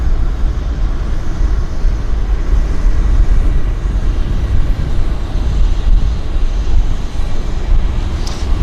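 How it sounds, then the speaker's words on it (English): A King Air turboprop on a medevac departure at Vancouver Airport, a continuous low rumbling drone heard from a distance with a faint brief tone near the end. "Oh, there's King Air. medevac departure."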